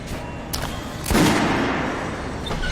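Kalash assault rifle shots in the video game Metro Last Light: a sharp crack near the start, a heavier blast with a lingering tail at about one second, and a faint later shot, over a steady background.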